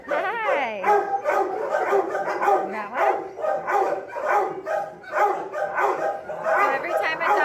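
Several dogs bark and yip repeatedly in a veterinary clinic kennel, a dense, overlapping chorus close by, with people talking over the noise.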